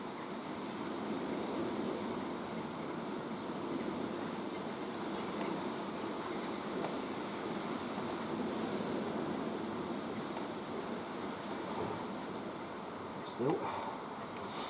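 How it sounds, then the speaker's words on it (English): Strong, rough wind blowing steadily across an outdoor shooting range, a broad continuous roar with slight swells and no talk, lasting throughout. "it is very windy today"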